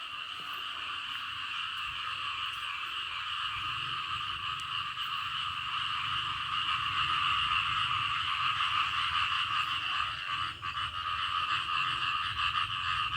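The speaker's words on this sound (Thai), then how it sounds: "เสียงกบ เสียงขียดพี่น้อง" Frogs croak steadily in rice fields after rain, a dense, continuous chorus of many overlapping calls at moderate distance, with no voices.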